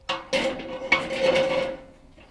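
A cast iron pan is set down on a metal grill grate over a grill running at full heat, giving a few sharp metallic clanks with a brief ringing tone, close and loud, with no talking.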